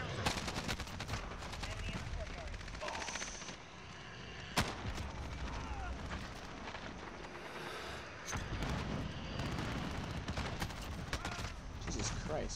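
Video game gunfire on the Shoot House map, with dense bursts of automatic rifle fire and single shots crackling throughout, loud and close, with a player's voice talking over it.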